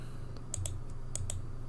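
Quiet, quick keystrokes on a computer keyboard ending with a press of the enter key, a few light clicks close by over a soft background hum.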